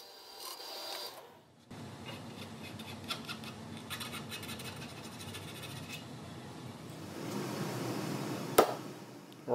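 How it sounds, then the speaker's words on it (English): Filing and scraping along the freshly cut edges of aluminum angle, with a steady rasping texture throughout, a pause near the start, and a sharp click near the end. "Then clean up all your burrs."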